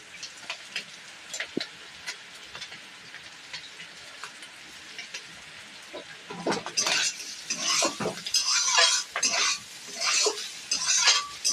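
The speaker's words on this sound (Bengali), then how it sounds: "ভালো করে নাড়িয়ে নেব।" A chicken, prawn and egg mixture sizzles in a pan for fried rice while a spatula scrapes and stirs it, the clatter growing busier and louder partway through.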